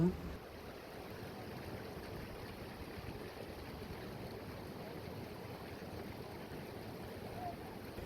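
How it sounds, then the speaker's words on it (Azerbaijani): A waterfall in the green mountains of Quba and Qusar, reached after fresh rain, gives a steady, dense rushing roar that holds constant and fairly close throughout, with no voices. "Gəlmişik şəlaləyə."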